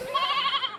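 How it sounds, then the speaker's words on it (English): Sheep bleating, a single sustained wavering cry about a second long, fairly close and loud with no talk over it. "It's a lot of sheep."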